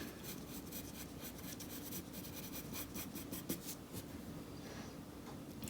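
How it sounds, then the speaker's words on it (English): A pencil drawing on paper is being erased with steady back-and-forth rubbing, a soft continuous scratchy rasp that stays close and fairly quiet throughout, with no talking. "I can erase it and move it."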